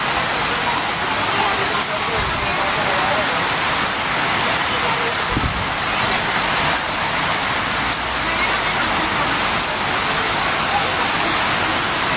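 Heavy typhoon rain pours down during Typhoon Enteng flooding, a loud, dense and unbroken roar of rainfall heard close by throughout, with a voice faintly audible beneath it.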